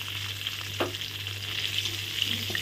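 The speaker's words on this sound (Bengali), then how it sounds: "ফোড়নটা ভাজা হয়ে গেল, এখন মশলাটা দিয়ে দেবো।" Bay leaf and black cumin sizzle steadily in hot oil as a tempering for a fish curry, a continuous close frying hiss with a faint stir or clink partway through.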